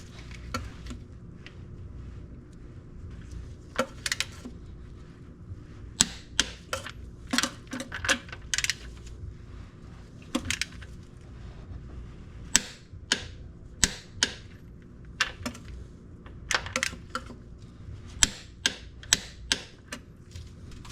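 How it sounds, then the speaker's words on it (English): Torque wrench tightening bolts on a Jeep Cherokee XJ engine, set to 80 foot-pounds: quiet, irregular ratcheting clicks in quick bursts, some close and sharp, spread across a low steady background hum. "I got my torque wrench set to 80 foot-pounds for the last torque."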